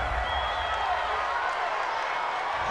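A home crowd at a football game roars steadily after a penalty flag, a continuous, dense wash of cheering and noise with no breaks.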